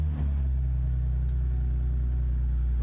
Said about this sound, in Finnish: Selvitellään nyt näitä kummallisia ääniä, mitä tästä lähtee, eli laitetaan auto käyntiin.